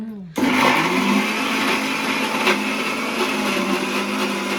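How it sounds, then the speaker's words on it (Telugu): A kitchen mixer grinder starts up and runs steadily, whirring loudly as it grinds ginger and garlic into paste, with no talking over it. "ఇప్పుడు ఇది మిక్సీ వేసి"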